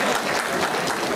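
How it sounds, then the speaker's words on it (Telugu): Applause for a headmaster at a school gathering, a steady dense wash of clapping from a crowd with no clear gaps, loud and close throughout. "సార్ చప్పట్లతో అభినందనలు తెలపండి సార్."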